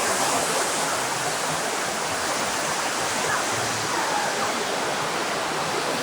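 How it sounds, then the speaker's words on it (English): Waterfall at a Las Vegas Strip hotel on a Tuesday evening, a loud, steady broadband rush of falling water, constant and close with no break. "Let's take a look at the waterfall."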